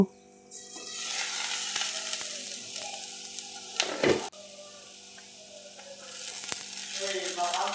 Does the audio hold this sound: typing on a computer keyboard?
no